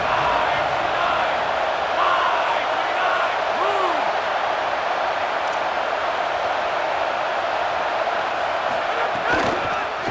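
Stadium crowd noise from the EA Sports College Football 27 video game rolls on as a steady, broad roar throughout, with a commentator talking over it.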